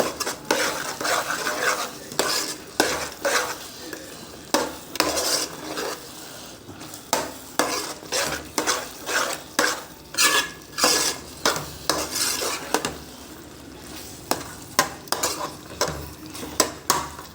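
A spoon stirs and scrapes a thick gongura chicken masala mixture in a metal pot, giving repeated loud clinks and scrapes in an irregular rhythm, close up, with no talking.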